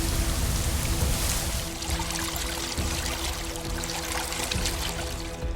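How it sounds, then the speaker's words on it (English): Heavy, steady roar of a waterfall in a Foundry VTT tabletop game scene, dense and close, easing slightly after the first couple of seconds, with nothing else over it. "As you get a bit closer to the waterfall, you can hear that it is a bit heavier sound."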